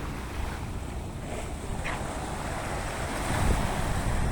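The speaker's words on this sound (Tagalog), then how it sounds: "lagaslas ng tubig" Water washes and laps continuously against a seaside shore at night in Hong Kong, mixed with wind blowing across the microphone, growing slightly louder toward the end.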